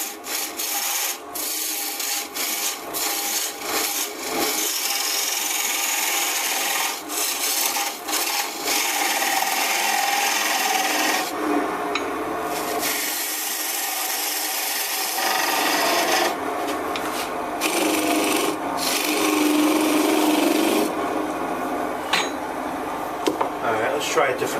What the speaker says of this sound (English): Let's get the parting tool here and let's get it off this wheel here.